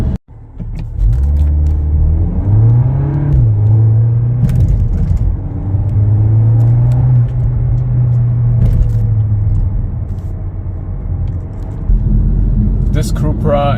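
A Cupra Ateca compact SUV with all-wheel drive pulls hard under full throttle. A loud, steady engine drone rises in pitch and holds, heard from inside the cabin with a person talking over it.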